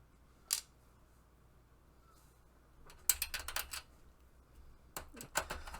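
Screws are driven back into a Sega Saturn console during reassembly: quiet ratcheting clicks from a screwdriver in short bursts, one isolated click early, then clustered clicking, close and faint.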